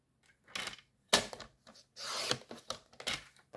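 Scissors cutting through a paper card in short snips and rasps, close and fairly quiet, a few separate cuts over a few seconds.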